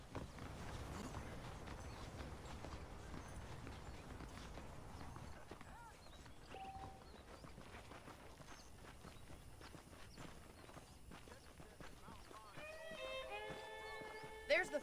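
Horse hooves clip-clopping in the Red Dead Redemption video game, a steady walking rhythm under in-game dialogue and ambient music, with a brief whinny-like tone near the end.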